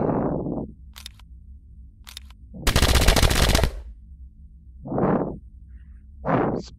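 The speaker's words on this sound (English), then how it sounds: "Shots are ricocheting everywhere." Gunfire in the sci-fi video game Fractured Atmosphere: sharp single shots, a dense burst of rapid fire, and ricocheting zings that ring out over a low hum.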